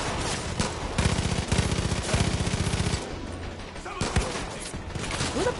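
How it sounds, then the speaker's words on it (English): Automatic gunfire in Far Cry 5, fast rattling bursts of shots in close succession, then a few scattered single cracks amid game noise. "Who the fuck is shooting at me?"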